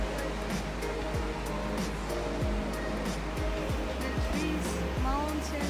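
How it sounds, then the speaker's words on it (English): A waterfall in Takachiho Gorge on Kyushu roars as a steady, broadband rush of falling water, constant and fairly near, with a few faint higher sounds and speech barely noticeable over it. "I can hear the sound of waterfall from here."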